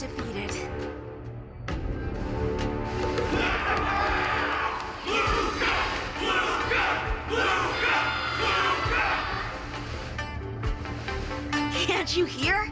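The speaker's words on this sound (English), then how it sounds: "Can't you hear? Everyone's cheering for you, Luca!" Crowd cheering in the game Honkai Star Rail during a martial arts exhibition event, a loud, continuous mass of shouting and whooping voices with dialogue spoken over it, swelling in the middle and trailing off.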